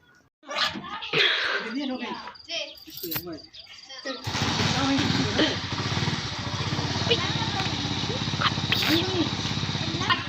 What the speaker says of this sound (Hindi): बाइक जैसे बाहर निकालता हूँ तो अहमद के साथ मैं इधर बैठूँगा।